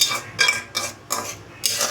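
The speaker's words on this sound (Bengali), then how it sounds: "এটা নাড়িয়ে কষিয়ে দিব।" Ginger garlic paste with cumin powder being stirred and sautéed in a pan in a small home kitchen: a few rhythmic bursts of utensil scraping and clinking against the pan, close and fairly clear, with no talking.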